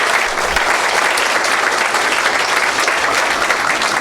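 A school audience gives students sustained applause, dense and steady clapping throughout with a crowd murmur beneath.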